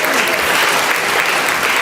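Audience applause for award nominees and winners at a chamber of commerce business awards ceremony, a dense, steady wash of clapping from a large crowd, loud and continuous with no break.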